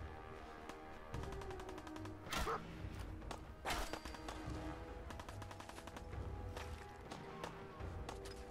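Gunfire in the video game Fallout 4, with bursts of rapid shots and sharp cracks recurring steadily over a dense layer of game music and effects.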